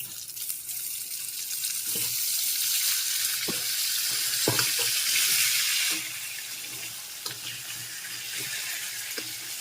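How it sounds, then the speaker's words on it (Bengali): Potatoes fry in hot oil in a pan while cooking rohu fish curry with cauliflower, a broad continuous sizzle with a few soft knocks of stirring, the sizzle dropping slightly partway through. "আলু গুলোকে ভালো করে ভেজে নিচ্ছি"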